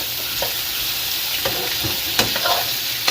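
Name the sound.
sausages browning and sizzling in a frying pan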